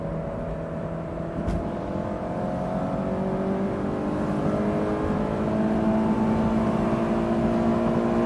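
A sports car, either a Mazda Miata ND3 or a Honda S2000 AP1, pulls hard in third gear at high revs, and its engine pitch climbs steadily, loud and near, with no talk over it.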